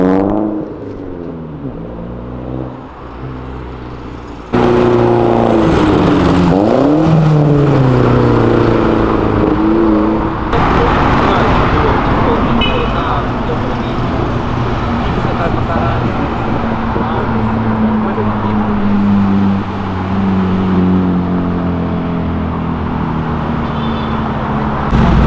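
A Fiat Marea Turbo accelerates hard, its engine rising through the revs in a loud, steady roar that climbs in pitch after a short lower-level start, with people talking over it.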